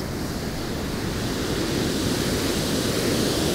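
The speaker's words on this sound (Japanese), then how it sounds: "あんまりね、波際に寄ることができないので、まあ、結構ね、波がありますからね。" Steady roar of heavy sea surf breaking on a sandy beach, a continuous loud wash of waves with wind noise, no voices.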